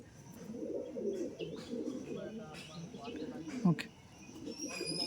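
Madras pigeons being handled and shown off coo softly in low rolling phrases, with faint chirps and rustling nearby while someone talks over them.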